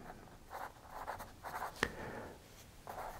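Pen writing on paper while a string-spread measurement is noted during guitar design work, heard as short scratchy bursts of strokes in an irregular rhythm, close and fairly quiet, with one sharp tap partway through.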